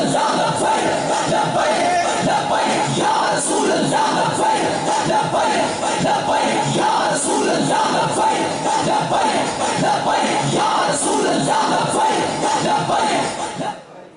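A large crowd at a religious conference chants Labbaik slogans, a dense sustained roar of many voices with rhythmic surges that stays loud throughout, then drops off at the very end.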